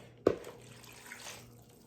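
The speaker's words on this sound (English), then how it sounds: "And then we're going to add to that 1 cup of water." A cup of water is poured into a pot with strawberries and sugar for a homemade strawberry shortcake, a short splash and gush at the start that fades into a quieter trickle.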